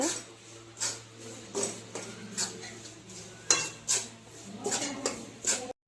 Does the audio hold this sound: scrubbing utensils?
yes